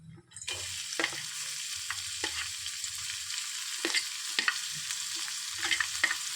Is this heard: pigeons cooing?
no